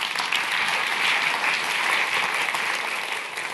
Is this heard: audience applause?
yes